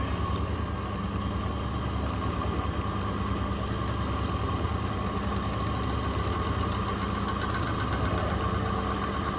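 A car engine fitted with an Accel 59130 HEI distributor idles steadily and loudly, a dense continuous rumble with an even mechanical pulse and a high whine, unchanging throughout with no voices.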